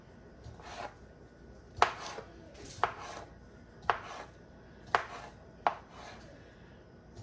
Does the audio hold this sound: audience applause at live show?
no